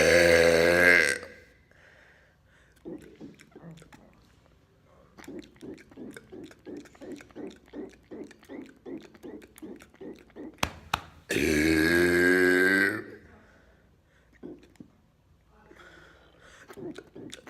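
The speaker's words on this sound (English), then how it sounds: "today I'm doing hotel burping" Loud, long deliberate burps in a hotel room, two big drawn-out belches bracketing a run of smaller croaking, rhythmic burp sounds, all close to the mic.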